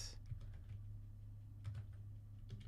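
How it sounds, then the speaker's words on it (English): Someone types on a computer keyboard at a desk while coding, producing a quiet, steady patter of soft key clicks with a few sharper taps and no voices. "I'm like typing right now."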